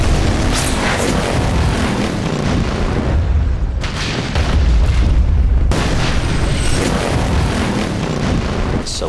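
Large film-stunt explosion blowing up a barn: a sustained, heavy rumbling blast with deep booming bursts and crackling debris, loud and close throughout the clip.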